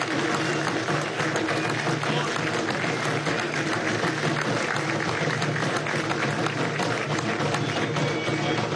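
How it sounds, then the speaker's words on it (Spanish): A crowd at a state ceremony transferring remains to the Pantheon applauds the president of Haiti, with continuous dense clapping and cheering heard from a distance and a faint voice mixed in. "Un aplauso a Haití"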